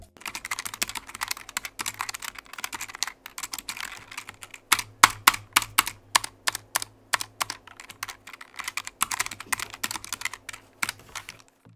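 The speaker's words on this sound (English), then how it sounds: "The tactile, while it does still make a pretty distinct click sound, is actually quite quiet when you're typing" Typing on a Logitech G915 wireless low-profile keyboard with tactile switches: rapid, fairly quiet clicking keystrokes in uneven bursts, close up, with no talking.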